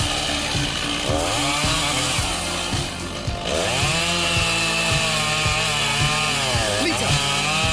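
A giant chainsaw cutting through wood in a forest, its loud, steady buzzing engine rising and falling in pitch as the chain bites in, close and continuous throughout.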